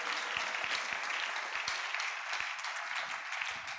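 A church congregation clapping together, a broad, sustained wash of applause with sharp individual claps standing out throughout, fairly close and with no talking over it.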